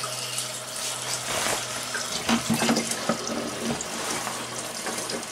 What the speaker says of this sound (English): so let's fill it up with cold water again